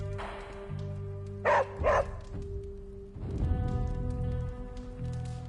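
A dog barks twice in quick succession during a scene in the video game Marvel's Midnight Suns, heard over a steady musical score with sustained tones.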